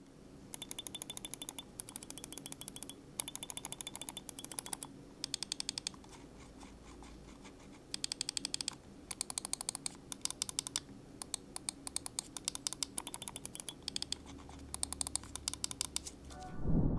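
Close, crisp bursts of rapid clicking from a Vortexseries IGNIX Xtreme budget gaming mouse with Omron D2FP optical switches, fired in dense rhythmic clusters with short pauses in between and no talking.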